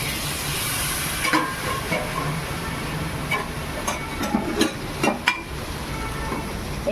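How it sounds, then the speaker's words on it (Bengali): Water poured into a hot cooking pan of taro root (kochur mukhi) curry sets off a continuous, fairly quiet hiss with scattered small clicks and pops. "জল দিয়ে দিচ্ছি।"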